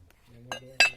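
A knife cuts into a red-fleshed palm fruit (sevakkai), giving two sharp, close knocks with a faint clink, the second louder, over a low murmur of a voice.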